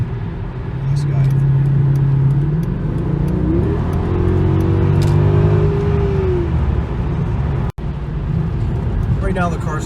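A 2007 Mercedes-Benz E63 AMG in sport mode, its engine droning steadily with a rising and falling rev in the middle, while a person talks over it throughout.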